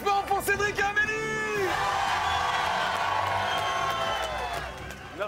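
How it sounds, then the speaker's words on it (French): A voice speaks briefly before a crowd erupts for Cédric and Amélie, with a swell of cheering, whoops and clapping that holds steady and then eases off. "Applaudissements pour Cédric et Amélie!"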